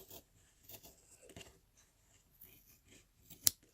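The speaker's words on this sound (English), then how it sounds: "I'm just going to cut straight through." Scissors snip through knitting yarn at the six-inch mark while making a thrum for a loom-knitted mitten, a single close, sharp cut standing out against quiet rustling.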